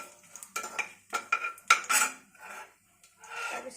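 Two bay leaves and a little cumin frying in a pan, with a utensil scraping and clinking against the metal in short, irregular bursts over a faint, soft sizzle.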